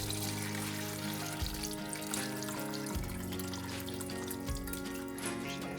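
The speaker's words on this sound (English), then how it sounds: "pour the fat in here" Steady pouring of rendered duck fat through a strainer and funnel, trickling continuously and close, with a low rumbling drone underneath and no talking.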